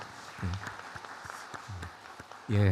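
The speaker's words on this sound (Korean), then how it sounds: "우리 선교사님 예배에 참석하셨는데 우리 박수로 환영하겠습니다." Congregation applauding to welcome a visiting missionary during a Sunday morning church service, a moderate patter of clapping running beneath a speaking voice, with a louder voiced burst near the end.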